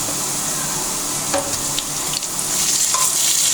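Ginger garlic paste frying with lightly fried onions for a potato chicken curry, a dense, loud, continuous sizzle close up with a few stirring scrapes and no talk.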